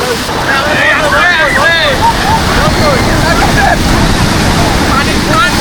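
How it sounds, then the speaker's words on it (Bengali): Large sea waves break on Cox's Bazar beach with a steady, loud wash of surf and wind noise throughout, and a person speaks excitedly over it. "সমুদ্র সৈকতে অনেক বিশাল বিশাল ঢেউ।"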